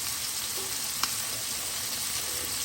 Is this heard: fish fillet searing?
yes